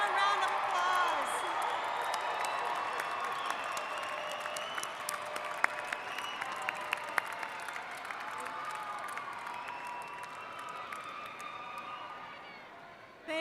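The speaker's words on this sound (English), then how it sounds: "and give them a round of applause." At a university commencement ceremony, a large indoor audience applauds in one long, dense wash of clapping with scattered cheers, sustained for over ten seconds before thinning at the end.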